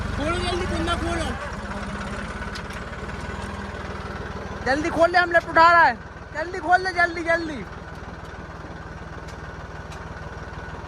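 A tractor engine idles steadily in the background during a corn harvest, a low continuous drone running beneath loud, hurried shouting between workers.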